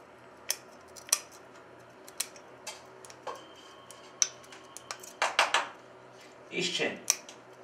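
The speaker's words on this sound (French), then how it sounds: "Maintenant on va découper le pendentif." A Kabyle jewelry pendant is cut out, heard as a quiet series of sharp metallic snips and ticks at irregular intervals, close by, with faint rustling between them.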